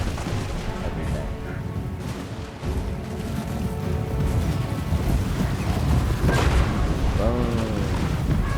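Cannon, organ gun and bullet fire in a Bretonnian battle in a strategy video game, dense booming artillery and gun sounds forming a continuous loud battle din, with a person talking over it.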